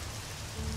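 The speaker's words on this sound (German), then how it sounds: "herzlich willkommen im wunderschönen strömenden Regen von Alex" Heavy, pouring rain in the video game ELEX, a brief steady wash of dense hiss that swells slightly toward the end, with no voices.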